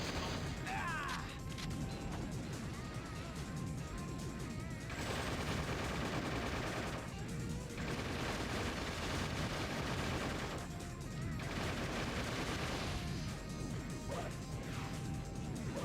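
Sustained gunfire hammers at a barrier in Shadow the Hedgehog, a continuous dense barrage of shots and crashing impacts with brief dips, layered over busy game sound throughout.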